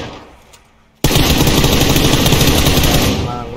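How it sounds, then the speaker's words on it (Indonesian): In a PUBG tournament match, after a quiet moment, rapid sustained gunfire erupts abruptly and loudly, a dense continuous burst of automatic shots that keeps going. "Kita lihat tembak-tembakan, cuk."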